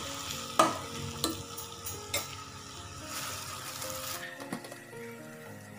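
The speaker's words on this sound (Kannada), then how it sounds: "ಇದನ್ನೆಲ್ಲ ಚೆನ್ನಾಗಿ ಫ್ರೈ ಮಾಡ್ಕೋಬೇಕು." Chopped tomatoes fry in a pan while being stirred, with a steady soft sizzle and occasional scraping clacks of the spoon against the pan, fairly quiet and close with no talking.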